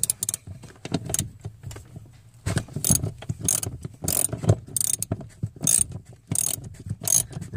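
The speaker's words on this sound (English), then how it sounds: "I'm just using a short extension. I think it's like a 4-inch short extension on a 1/2 socket." A socket ratchet on a 4-inch short extension with a 1/2 socket works the accelerator pedal bolts on an OBS Ford F350, giving close, irregular bursts of clicking ratchet strokes separated by brief pauses, with no talking.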